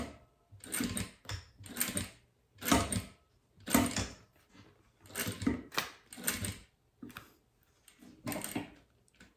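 A domestic sewing machine with a Teflon presser foot stitches a pencil case with nylon 60 thread, running in repeated short bursts of rhythmic mechanical whirring separated by brief pauses, close and moderately loud.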